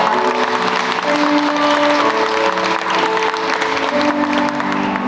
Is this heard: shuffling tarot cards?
no